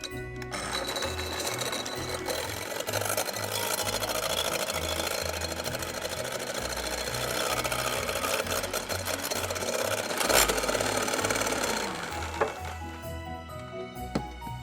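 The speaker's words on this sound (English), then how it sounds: "beat the egg up to stiff peaks" Electric mixer whipping egg whites to stiff peaks, a continuous close motor whir with a buzzing rattle that holds steady for over ten seconds before easing off, with no talk.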